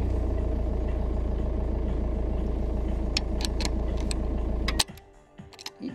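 A VW Golf 5 engine fires and runs at a steady, loud idle with a dense rumbling drone, then cuts off abruptly near the end, leaving a few faint clicks and rattles.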